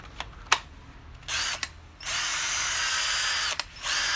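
Ingco CIDLI2002 20V cordless impact drill whirring in short bursts, then a sustained loud run with a brief pause before starting again, close and alone with no talking.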